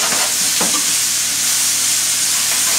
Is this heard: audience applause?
no